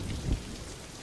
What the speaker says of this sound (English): that thunderclap was kind of a thud of realization for Kravis